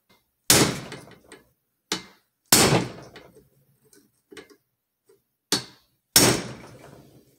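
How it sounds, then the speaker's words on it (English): Several sharp, heavy knocks of a hammer tapping a Kalashnikov USA PK9 pistol part in deeper, spaced irregularly with short ringing decays and quiet gaps between blows. "I'm gonna use a bigger hammer to tap it in a little bit deeper."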